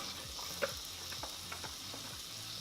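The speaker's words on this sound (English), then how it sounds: "we're gonna saute the onions" Onions sautéing in olive oil in a pan, with a steady soft sizzle and a few light spoon stirs and taps, close by with no voices.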